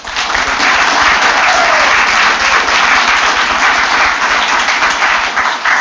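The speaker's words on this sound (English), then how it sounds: "let's give them a round of applause" Sustained applause from a council meeting audience honoring police officers, steady dense clapping that stays loud throughout with no pause.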